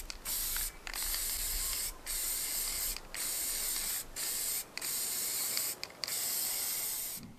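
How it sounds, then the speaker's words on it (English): Spray filler hisses from an aerosol can onto 3D-printed slot car track barriers, a loud steady spray in long bursts broken by several brief pauses, close and continuous. "So it's just getting a really rough layer here of spray filler."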